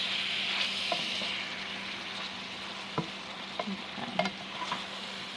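Pork pieces browning in a thin layer of oil in a pan for green chile, a steady close sizzle with occasional stirring clinks and scrapes, and one brief spoken word.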